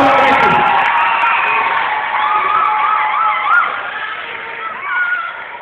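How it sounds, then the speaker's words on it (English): Crowd at a live show cheering, whooping and shouting in a loud, sustained wash of voices, with a few brighter swells of cheers rising over the steady roar; no separate spoken words stand out. "Give Paul a round of applause."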